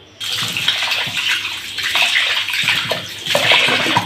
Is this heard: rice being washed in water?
yes